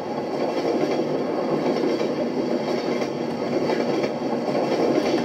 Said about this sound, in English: So when the train come, I'm gonna run on the train,